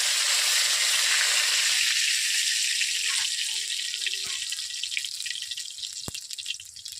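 Panch phoron spices dropped into hot oil in a heated wok for Bengali shukto, a loud bright hiss that fades slowly over several seconds, with a few small pops and crackles toward the end.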